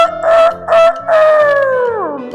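A human voice imitates a rooster's cock-a-doodle-doo during a storytelling performance, loud and close, with two short clipped notes followed by a long, drawn-out falling crow.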